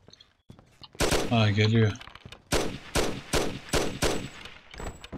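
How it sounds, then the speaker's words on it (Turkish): Gunfire in a mafia video game: a burst of five or six sharp, evenly spaced shots rings out after a brief line of talk, loud and close. "bak karşıdan sıkıyor"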